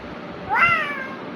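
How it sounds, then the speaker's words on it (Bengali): A single cat meow, fairly close and clear, rising then slowly falling over about a second against a quiet indoor background; no talk during the call. "বিড়াল ম্যাও"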